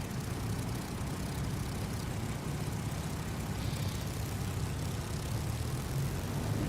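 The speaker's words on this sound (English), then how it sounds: "we're taking off on the taxiway that we landed on in the same direction" Warbird aircraft engine in the War Birds flight simulator roaring steadily as the plane takes off from a taxiway, a dense, even drone with no breaks and no speech over it.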